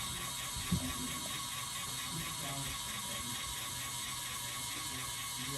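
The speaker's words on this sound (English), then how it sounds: "it's pumping all this fluid into the machine, priming it, and getting it into this reservoir here" An Analox UNA HHP lab analyzer primes itself, pumping reagent fluid from a reservoir into the machine with a steady mechanical whirr and ratcheting clicks. The sound runs continuously at an even level throughout.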